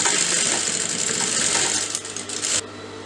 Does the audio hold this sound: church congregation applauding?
no